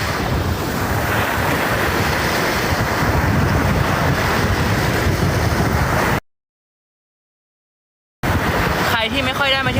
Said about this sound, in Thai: ทะเลนะฮะนี่